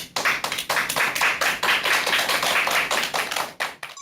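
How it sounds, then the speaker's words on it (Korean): Audience applause at a parenting lecture, steady rhythmic clapping from a crowd lasting about four seconds before dying away, with no talk over it. "박수 부탁드립니다"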